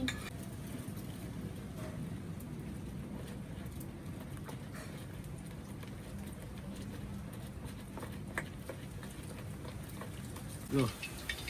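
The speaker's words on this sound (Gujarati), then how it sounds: "અત્યારે છે ને વરસાદ સાથે છે ને એકદમ જોરદાર કે પવન ચાલુ થઈ ગયો છે" Steady rain with strong wind in an outdoor cooking setting while oil heats for boondi, a continuous broadband wash of patter and gusts holding level throughout, with a brief louder knock near the end.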